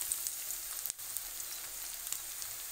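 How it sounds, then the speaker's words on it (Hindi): Onion bhaji batter sizzling in hot oil in a kadhai, a steady close crackle and hiss with one brief dip as more batter drops in. "तो ये देखिए तेल हमारा अच्छे से गरम है, तो बैटर को लेते जाना है और छोड़ते जाना है"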